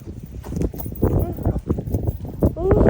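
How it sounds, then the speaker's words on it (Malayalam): A donkey's hooves clip-clop in an uneven walking rhythm on a rural track in Honduras, Central America. The steps sound fairly close, with people talking over them. "ദേ കഴുത ഉണ്ട് കേട്ടോ കഴുത കുതിര മാത്രമല്ല കഴുത ഉണ്ട്"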